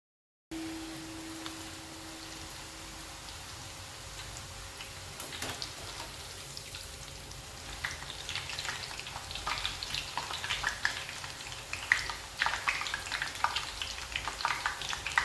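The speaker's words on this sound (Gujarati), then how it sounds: "ગાંઠિયા જ્યાં સુધી ક્રિસ્પી ન થાય ત્યાં સુધી સારી રીતે ફ્રાય કરવાના છે" Spicy gathiya dough frying in hot oil: a steady, low sizzle that builds into dense, close crackling and popping over the second half, with no voices.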